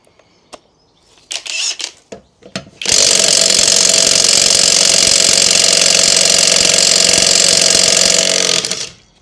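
A DCA cordless impact wrench set to 260 Nm works a stubborn nut, starting with a few short clicks and bursts. It then hammers steadily and loudly for about six seconds before stopping abruptly, close up, with no talk.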